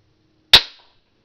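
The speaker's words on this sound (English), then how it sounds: "I'm gonna shoot right through here." UTG M24 airsoft sniper rifle fired through a cardboard box, a single sharp close snap with a brief ringing tail, alone in a quiet room.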